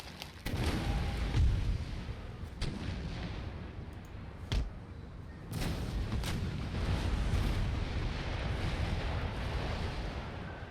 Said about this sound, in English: Quite a noisy barrage